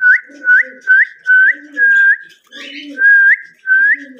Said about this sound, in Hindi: देखो मैं अभी सीटी वगैरह लगाऊंगा तो ये भी बोलेंगे